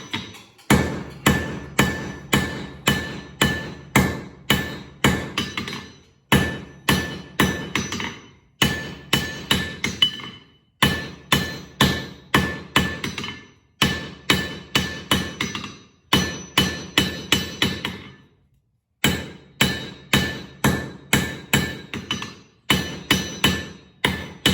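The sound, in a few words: forging hammer striking hot steel on anvil for a flint striker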